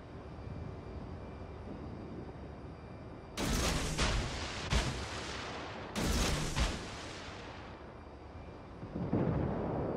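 Warship guns firing in World of Warships, a few heavy booming salvos with rumbling tails rising over a steady low engine drone, followed by a further softer blast near the end.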